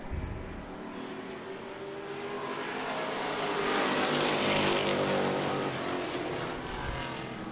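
Modified race car taking a corner at Tucson Speedway, a steady loud engine roar that builds slightly through the turn, with other cars audible in the background.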